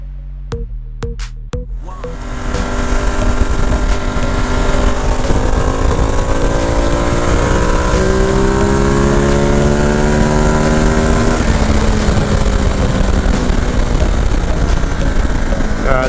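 A Ducati Multistrada Enduro 1200 engine starts up on a dyno, then revs hard in a loud, steadily climbing howl during a top-speed pull, the pitch dipping briefly near the end before climbing again.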